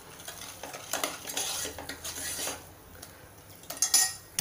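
A spoon stirs and scrapes masala sautéing in a pan for a Marathi pat vadi rassa, with a continuous sizzle under repeated metallic scraping and clinks, close by and no one talking.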